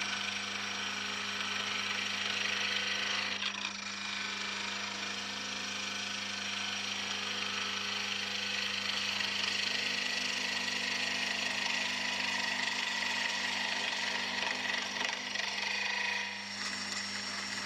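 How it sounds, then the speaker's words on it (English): A wood lathe spins a blank of Cocobolo down toward a cylinder, a steady loud machine drone with constant hum holding throughout and no talk. "we have to turn the Cocobolo down to a cylinder"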